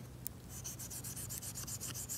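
A Gerber Principle knife blade is stroked against a sharpening surface to remove the burr, giving quiet, rhythmic rasping rubs, about a dozen quick strokes in close succession with no talking.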